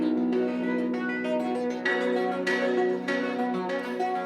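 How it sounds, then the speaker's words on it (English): Kalimba notes drenched in heavy reverb and delay, ringing in a sustained wash over a full music mix with bright plucked attacks recurring throughout. "There's a kalimba with a lot of like reverb and delay,"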